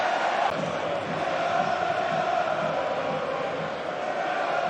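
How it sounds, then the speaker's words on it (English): Football crowd at an EFL Championship match between Ipswich and Millwall, with Millwall away fans cheering a goal: a steady, dense roar of many voices that holds at one level throughout. "Well, their fans finally have something to cheer."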